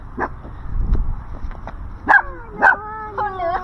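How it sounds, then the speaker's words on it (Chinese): A dog gives a few high yips and barks at close range during a family camper-van trip, with quieter voices and handling noise between the calls. "狗狗。 狗狗。"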